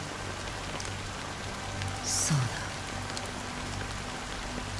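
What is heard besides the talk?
rain falling in Honkai Star Rail video game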